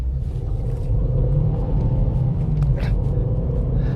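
A SEAT Ibiza FR 1.8T engine rumbles steadily from inside the cabin, a deep continuous drone that holds strong throughout without pauses.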